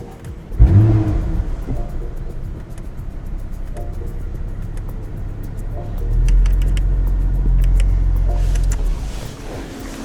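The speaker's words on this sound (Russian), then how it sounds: "Сейчас я покажу, как работает заслонка выхлопной системы." A 2027 Audi RS 5 with an exhaust flap revs close by, a loud burst of engine and exhaust at the start, then a steady drone, and a second swell of louder revving midway that holds before easing off.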